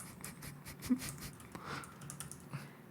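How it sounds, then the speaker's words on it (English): Fingers tap quickly and unevenly across a computer keyboard during a live Q&A and lyrics-guessing game, a soft stream of close clicks with no talking. "I'm just gonna start typing."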